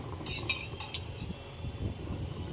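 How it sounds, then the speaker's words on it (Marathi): A metal spoon clinks a few times against a cooking pan as two spoonfuls of oil go in while kothimbir vadi fry; the light, bright taps come in the first second, then a low, soft kitchen rumble continues. "पुन्हा एकदा आपण दोन चमचे तेल सोडून घेत आहोत"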